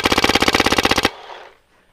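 A 2013 Proto Reflex Rail paintball marker fires a rapid burst of about fifteen evenly spaced shots in roughly one second during an outdoor game. The shots are loud and close, then cut off into a brief fading tail.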